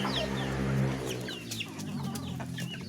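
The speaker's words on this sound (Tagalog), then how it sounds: "Ayan po ang ating mga manok." Chickens cluck busily while being fed, overlapping calls in a steady chorus at close range, with a few sharper squawks rising above the flock noise.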